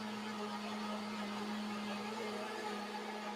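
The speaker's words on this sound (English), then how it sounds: "So you guys get to listen to the blender grind." A kitchen blender grinds continuously, a steady whirring motor drone with a strong constant pitch and grainy churning noise, even and unbroken, heard alone from close by.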